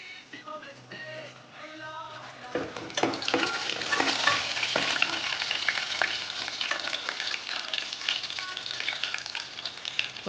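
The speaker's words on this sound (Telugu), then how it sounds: "అల్లం వెల్లుల్లి కొంచెం ఆయిల్ వేసుకోవాలి అల్లం కొంచెం తాలింపు వేసుకొని తీసుకోండి" Ginger and garlic hit hot oil and sizzle steadily, with clattering stirring in a pan close by; a brief voice is heard at the start.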